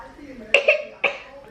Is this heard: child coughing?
yes